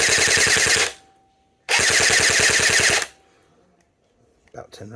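A Jing Gong JG109 T3 MC51 compact G3-style gel blaster fires two loud, rapid full-auto bursts of about ten to eleven rounds per second, with a pause between them. Brief speech follows at the end.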